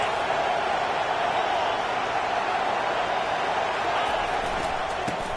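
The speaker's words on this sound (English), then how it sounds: "here comes the noise. This crowd is trying to inspire this defense to make a big red zone stop" Stadium crowd noise in the College Football 25 video game, a continuous dense roar of many voices, steady and fairly loud, with no clear breaks.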